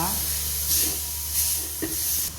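Spices frying in a pan with a steady close sizzle and hiss, a few swelling bursts as they are stirred, brief and even in level.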